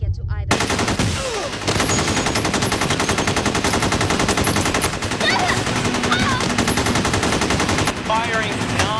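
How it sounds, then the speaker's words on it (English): Sustained, rapid machine gun fire during a bank robbery shootout in an action movie, loud and nearly continuous bursts layered with scattered shots, with brief shouted voices breaking through the barrage. "Firing non-stop."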